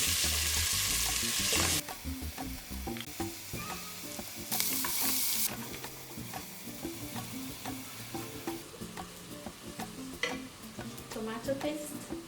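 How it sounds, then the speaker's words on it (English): Onions stirred and frying in hot oil for Kenyan beef pilau, a steady sizzle with scraping spoon strokes and clinks against the pot, close and fairly quiet, with no speech. "Stir the onions until they turn brown."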